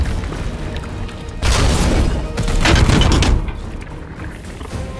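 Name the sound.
lascannon firing in Warhammer 40,000 Chaos Gate Daemonhunters video game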